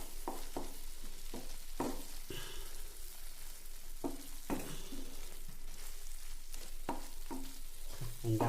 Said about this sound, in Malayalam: ഇതാ ഇതിലേക്ക് വേണ്ടി അരച്ച മസാല അരപ്പ് നമുക്ക് ഇതിലേക്കൊന്ന് ചേർത്ത് മിക്സ് ചെയ്ത് കൊടുക്കാം.